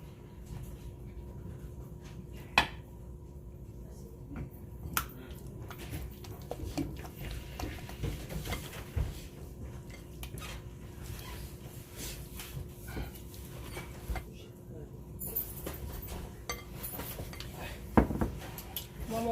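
Crab stuffing paste for red snapper is stirred in a bowl, giving soft scrapes and light utensil clicks scattered over a steady low background hum.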